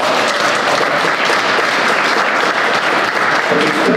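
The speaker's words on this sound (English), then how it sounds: "Let's give him a round of applause for that" Loud, steady audience applause at a 2024 ADA grant check presentation in the City of Lawrence, a dense continuous wash of clapping throughout.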